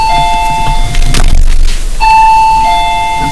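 A ringing electronic bell chime sounds twice with a short gap between, loud and close over a steady background hiss.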